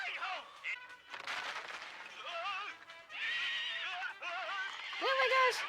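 A horse in the anime Steel Ball Run whinnies several times amid hoofbeats, with voices talking over the neighs.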